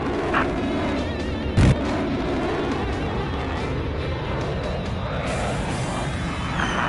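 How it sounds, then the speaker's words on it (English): Aircraft cannon fire in the video game Air Conflict Vietnam: one short, loud burst of shots stands out over a steady, droning aircraft engine roar, with a fainter pop just before it. "Shoot your cannon"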